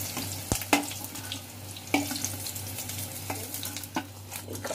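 Eggs frying in a pan for anda masala: a steady close sizzle, with sharp clinks as a spatula stirs and scrapes at irregular intervals and no talk.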